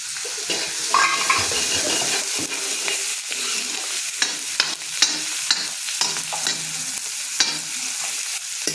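Onions frying in a pan for a carrot and fenugreek vegetable dish, a steady broadband sizzle with scattered stirring clicks and scrapes throughout, close and fairly loud, no voices.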